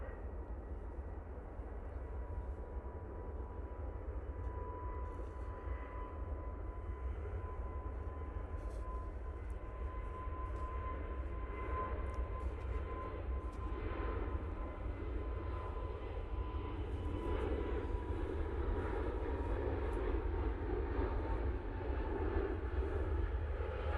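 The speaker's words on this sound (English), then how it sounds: "KLM A321 Neo going off to Amsterdam now" A KLM Airbus A321neo departs Manchester Airport bound for Amsterdam, its jet engines giving a sustained, distant roar with a low rumble that holds steady and slowly swells as it climbs away.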